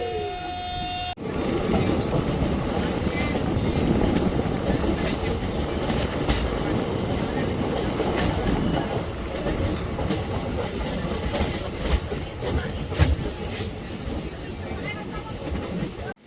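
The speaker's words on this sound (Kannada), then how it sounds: "ಐವತ್ತೊಂಬತ್ತು ಕಿಲೋಮೀಟರ್ ಕವರ್ ಆದಮೇಲೆ ನಮ್ಮ ಟ್ರೈನ್ ಎಂಟ್ರ್ ಆಗಿದೆ ಈಗ ಹನಿಗೆರೆಗೆ" A Dharwad to Solapur passenger special train runs on rails, giving a loud continuous rumble with rhythmic clickety-clack of wheels over joints. The roar stays close and steady for the whole stretch, with a brief tonal horn-like sound at the start.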